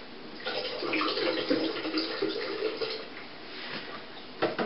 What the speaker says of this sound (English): watching me just pour apple juice into a plastic container